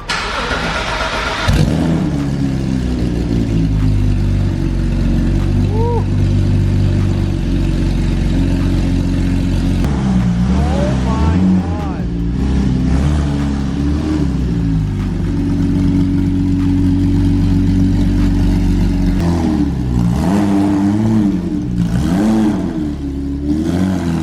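Straight-piped BMW M3 starting with a bark, then loud close revving and idling, repeated throttle blips rising and falling over a deep rumbling exhaust, with occasional voices in the background.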